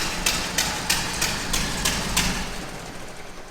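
A 1924 Model T Ford engine, long left sitting, fires up and runs at a rough idle with regular sharp ticking knocks over a low rumble, close and steady.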